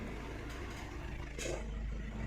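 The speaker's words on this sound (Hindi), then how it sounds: "सुना दोस्तों, कट करके कंप्रेसर ऑन आया।" A Chevrolet Cruze idles with a low, steady engine hum, and near the middle a brief click and a slight rise in the hum mark the faulty AC compressor cutting in.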